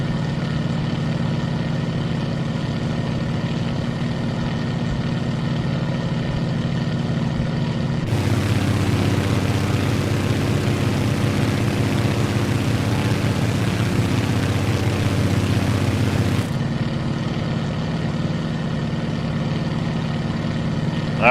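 Grumman Goose twin propeller engines roar during the climb in Microsoft Flight Simulator 2024, a steady loud drone that swells sharply for several seconds in the middle before settling back to a lower hum.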